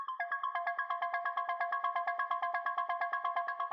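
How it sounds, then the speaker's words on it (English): A synth arpeggio for dark melodic techno: a quick, evenly pulsing pattern of bright plucked notes repeating in a tight loop, fairly quiet and alone. "So the next thing I have here is this first ARP,"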